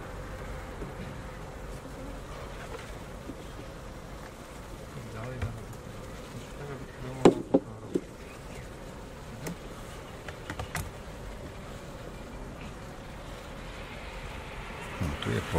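Honeybees buzz around full beehives during a beekeeping session, a steady, close, low drone running throughout, with a few sharp knocks and clicks from handling partway through.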